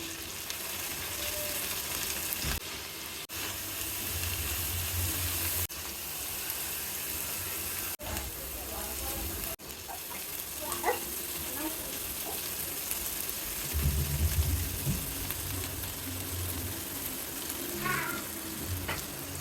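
Tomato paste fries in oil in a pan for a Bengali fish curry, giving a steady, continuous sizzle with occasional clattering stirs and dull knocks near the cook.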